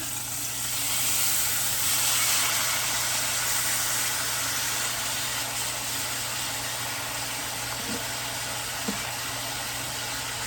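A steak turned over in a hot pan sizzles steadily, a broad, even hiss that holds without pause at close range, with no voices over it.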